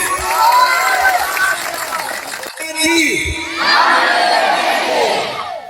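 A political rally crowd cheering and shouting, loud massed voices with whoops rising and falling, a brief lull midway before the roar swells again; clapping is not clearly distinct.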